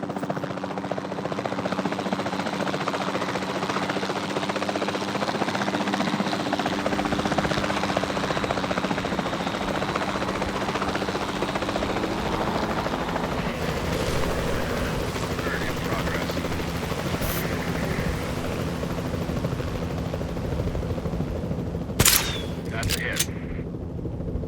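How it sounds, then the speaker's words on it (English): Capture team helicopter in Jurassic World Evolution 2, a continuous loud rotor drone filling the whole stretch, with a few sharp shot-like cracks near the end, under game dialogue. "Then the sensible thing is to take a capture team helicopter"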